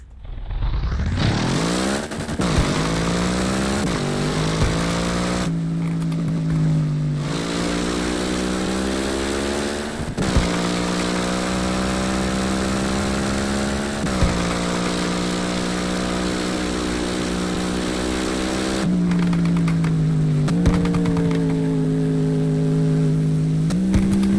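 A V8 engine in the Roblox game Midnight Chasers revs up sharply, then holds a steady, buzzing drone with several brief dips and re-revs, loud and continuous with no talking.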